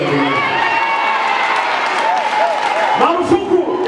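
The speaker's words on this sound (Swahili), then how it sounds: "Ni makofi mengi ongeza kabisa" Applause and cheering from a church audience at a marriage teaching, loud crowd noise with clapping and shouts sustained throughout, a few voices calling out near the end.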